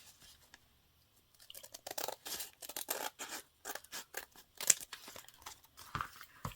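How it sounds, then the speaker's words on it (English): Scissors cut across the top of a paper bag with a run of crisp, close snipping and crunching strokes after a brief quiet start, loud and irregular in rhythm. "I'm going to take a little bit off this top here."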